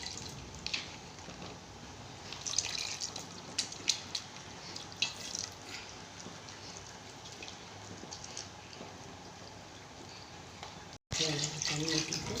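Water pours steadily over tomatoes and tamarind with light splashing and occasional drips, fairly quiet, then cuts off briefly before a louder splash.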